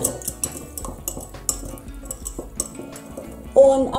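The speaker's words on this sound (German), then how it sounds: "Schneebesen." A whisk is worked around a bowl, giving irregular metallic clinks and scrapes at close range, with a louder ringing knock near the end.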